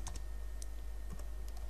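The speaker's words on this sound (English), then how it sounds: "We type our new password." A new password being typed on a computer keyboard, heard as a quick, close series of light key clicks over a steady background hum.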